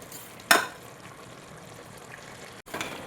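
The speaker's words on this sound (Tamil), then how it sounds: "கொஞ்சம் புதினா தலை போட்டு நல்லா கிளறி விட்டுட்டு கொஞ்சம் நேரம் வேகட்டும்" Country chicken biryani masala with mint leaves cooking in a pot, giving a soft steady sizzle with one sharp clatter of stirring near the start and another scrape near the end, no talk.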